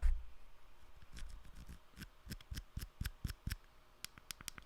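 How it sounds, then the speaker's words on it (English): DJI Mic 2 receiver dial being turned gives a run of sharp, close, quiet clicks, about a dozen in quick uneven succession, with no talking. "This is the click, by the way, of the dial."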